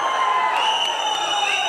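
A crowd at a stage event claps and cheers loudly and steadily, a continuous wash of applause with scattered whoops throughout.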